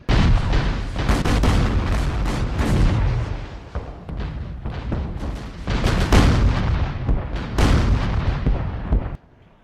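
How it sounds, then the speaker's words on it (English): Artillery barrages in the real-time strategy game Warno: dense, continuous booms and blasts overlapping for most of the stretch, some close and heavy, others distant, ending abruptly. "Oh, they got some more artillery coming in."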